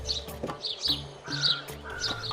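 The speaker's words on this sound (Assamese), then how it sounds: "লগতে চকৰ ঔজোপাত চৰাইৰ চিঞনি।" Birds call from a tree beside a quiet early-morning road, sending out repeated bright chirps and tweets in short bursts at moderate distance, with no talk.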